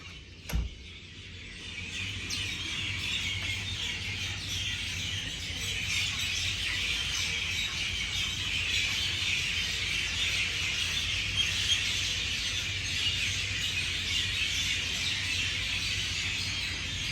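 A dense, continuous dawn chorus of many birds calling and chirping together at the Taj Lake Palace in India, steady and loud throughout, after a brief sharp tap at the start.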